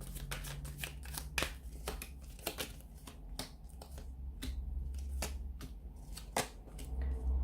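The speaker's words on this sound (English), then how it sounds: "So we'll give the cards a shuffle." Cards being shuffled up close, a run of sharp riffling clicks and flutters in quick bursts, with brief pauses between them.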